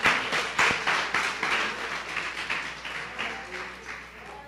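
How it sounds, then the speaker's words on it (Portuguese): A church congregation applauds together in a steady run of overlapping claps that fades slightly toward the end, with no voices over it. "Então, pode bater palmas."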